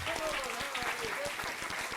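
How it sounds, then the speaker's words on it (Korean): Audience applause at a climate and environment leadership talk concert, a steady patter of many hands clapping together at moderate level, with faint voices mixed in. "여러분 박수 부탁드리겠습니다"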